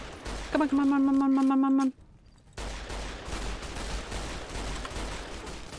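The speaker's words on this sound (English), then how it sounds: "don't heal while I shoot you" Gunfire in the Fallout New Vegas video game: a loud burst of rapid shots with a ringing tonal tail, then a pause and a broad rumbling wash of further firing and noise, with a brief spoken voice.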